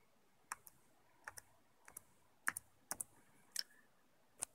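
Computer keyboard keys tapped while typing into the Windows 10 search bar, a dozen or so light, close clicks in small uneven clusters over a quiet background.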